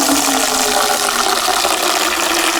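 Water gushes steadily from an opened valve feeding a Sluice Goose gold sluice, a loud, constant broadband rush with no pauses or voices.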